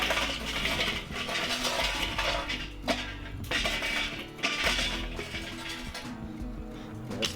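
Buffalo-style sausage balls going onto a hot Weber kettle grill: soft clinks and taps of grates and tools with light sizzling, fairly quiet and close, with no talking.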